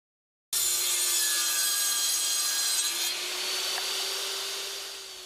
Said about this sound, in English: The sounds of power saws, hammers, and drills